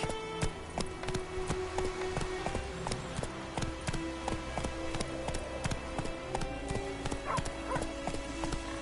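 Horse hooves clip-clop in a steady run through The Witcher 3, with a whinny rising partway through over layered game ambience and music.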